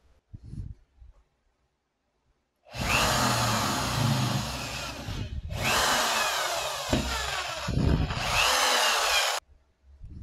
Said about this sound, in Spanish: Vamos a hacer un agujero en el centro de la base. Vamos a hacerlo más grande.